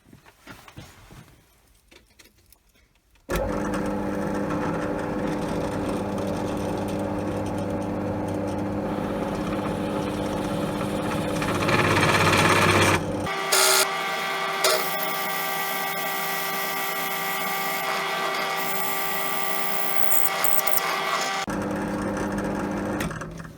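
A steady, loud electric drill whines continuously as it bores into a gear knob, its pitch and tone shifting partway through as it bites into material, with no talking.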